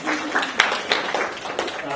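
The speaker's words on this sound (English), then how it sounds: "Round of applause" A small group gives a round of applause, scattered claps ringing out close by under ongoing chatter and voices.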